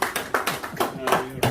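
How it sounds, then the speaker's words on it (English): Hands clap in a steady rhythm at a pub quiz night in Quambatook, several sharp claps in a row, close and fairly loud, with a voice talking over them. "Beautiful round of applause there,"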